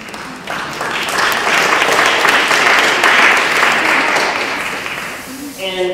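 An audience gives a round of applause at a 2007 talk, dense clapping swelling and holding for several seconds before fading, with a voice coming in at the end.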